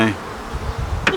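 Honeybees buzz around the entrance of a beehive, a low continuous drone close to the microphone, with one brief sharper buzz as a bee passes near.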